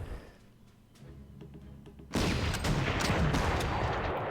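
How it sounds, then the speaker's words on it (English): A gun fires in the wartime strategy game Panzer Corps, a sudden loud blast that cuts in partway through and rolls on in a sustained rumble, after a quiet lead-in of faint clicks. "We'll fire another shot."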